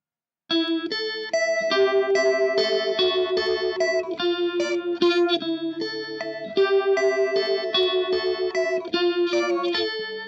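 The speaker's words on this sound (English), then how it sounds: "here's the Leslie type of sound" An electric guitar played through a pedalboard with a Leslie-type rotary speaker effect picks out a bright, continuous melody with a swirling, wavering tone, loud and up close.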